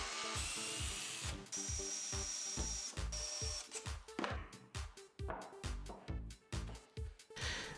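A power drill bores screw holes in wood for a band saw stand, the motor whirring in steady bursts first, then stopping and restarting in quick, choppy pulses, close and loud.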